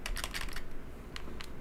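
Computer keyboard typing in quick, faint bursts of close key taps, a dense cluster at first, then a pause before a few more strokes.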